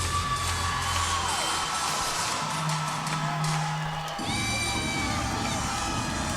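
A large arena crowd at the NCAA women's gymnastics championships cheers and murmurs continuously, a steady roar of many voices with brief whoops, while a commentator talks over it.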